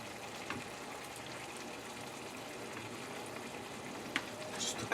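Shrimp sizzling in a pan for shrimp saganaki, a steady crackling fry hiss with small pops, continuous and close.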